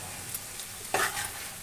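Snake gourd cooked with small fish as a chorchori, salt being stirred in; a soft sizzle with a couple of quick scraping stirs in a short burst, no voices.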